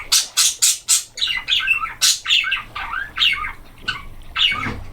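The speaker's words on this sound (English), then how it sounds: "May have just been a single bird making a noise, because there's like tropical birds in this region" Tropical bird calls in the video game Dredge, a run of loud, harsh squawks in quick succession, followed by shorter chattering chirps and screeches, close and prominent with no talk.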